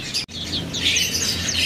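Small caged birds, including pleci white-eyes, chirp and tweet at a bird seller's shop, a quick series of high, thin calls overlapping close by, with a brief dropout early on and a steady low hum underneath.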